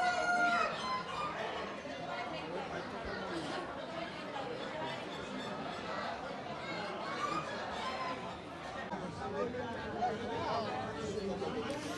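Roosters crow and hens cluck at a Spanish agricultural and livestock fair with a medieval market, blended into steady crowd chatter and nearby people talking throughout.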